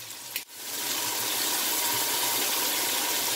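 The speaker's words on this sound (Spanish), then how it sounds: "Ahora le voy a estar poniendo un buen chorro de vino seco" Dry wine poured into beef rib sauce in a hot pan sets off a loud, steady sizzle that starts with a brief splash and then holds as a dense, close hiss.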